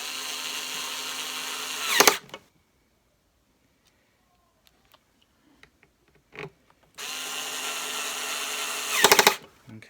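Two screws go into the cover of an Electrolux Turbo 2 vacuum cleaner with a power driver: two short, loud whirring bursts separated by a quiet stretch of light handling clicks.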